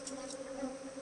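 Honey bees stirred up and angry at an opened hive while someone reaches in to pull out comb, giving a steady, close, continuous buzz throughout.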